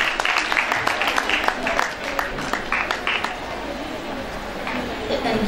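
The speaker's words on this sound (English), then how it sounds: "Let's welcome her with a huge round of applause." An audience at a school event at Bhavan Vidyalaya, Panchkula claps to welcome the principal, the applause fairly close and uneven, fading after a few seconds while a voice speaks over it.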